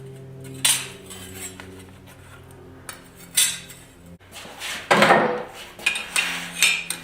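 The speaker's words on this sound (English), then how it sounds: "Then I'm going to lay in some chisel marks while it's in a black heat." Hammer blows driving a chisel into steel at black heat while forging a garden cultivator, a series of sharp metallic clanks and rings, close and irregular, several strikes spaced apart with brief resonant decays.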